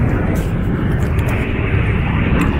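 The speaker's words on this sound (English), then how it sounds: "So we can get on the plane." A loud, steady airplane engine roar with a dense low rumble and broad hiss fills the whole stretch near Uluru, unbroken and close by, with no talk over it.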